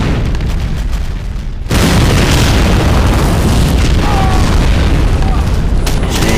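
Howitzer artillery barrage in the WWII strategy game Men of War: Barbarossa, a sudden loud roar of blasts that kicks in and stays dense and continuous, heavy rumbling shells landing close, with a voice talking over it.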